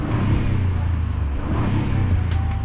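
A 2023 Ford F-150 EcoBoost pickup's exhaust rumbles loudly and steadily at close range, with a deep low drone that swells slightly as the engine is revved.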